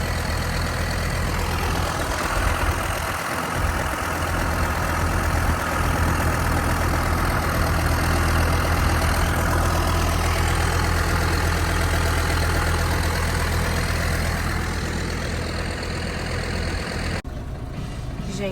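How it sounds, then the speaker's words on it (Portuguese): A tractor engine runs steadily as it is driven across a snowy farm, a loud continuous low rumble with a constant drone throughout and no pauses until the very end. "Gente, estou dirigindo um trator."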